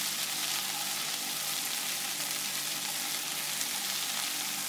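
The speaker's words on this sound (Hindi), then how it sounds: "भिंडी को आपने अच्छे तरीके से फ्राई करना है, थोड़ा सा लाइटली ब्राउन करना है।" Okra (bhindi) fries in a hot pan with masala, giving off a steady, dense sizzle that stays even and continuous throughout, close and with no voices.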